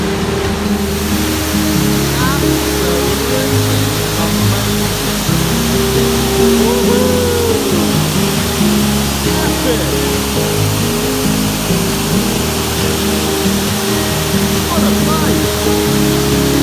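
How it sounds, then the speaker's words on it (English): Waterfalls in the Brecon Beacons National Park produce a continuous, dense rushing roar of falling water that fills the whole scene at a steady level. "Waterfalls everywhere."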